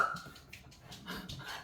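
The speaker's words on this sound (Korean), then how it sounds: "우리 강아지들이 고만하라고 얘기하기 때문에" Dogs bark and yip faintly in a few quick, uneven bursts at a distance.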